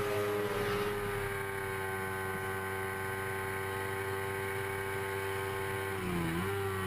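Several 250cc race motorcycles scream past on a road-racing track, a sustained high-pitched engine drone with steady harmonics that dips briefly as one machine passes, loud and continuous with no voices.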